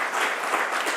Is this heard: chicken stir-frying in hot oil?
no